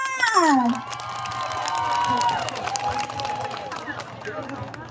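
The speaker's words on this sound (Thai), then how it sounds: "ขอเสียงปรบมือดังต้อนรับใจอ้อค่ะ" A crowd greets a performer stepping onto a stage with steady applause and cheering, a voice speaking over the clapping.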